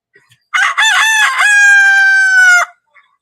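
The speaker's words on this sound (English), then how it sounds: "The rooster doesn't realize he could be dinner." A rooster crows once, loud and close, a full cock-a-doodle-doo with a long sustained final note, on its own with no talk.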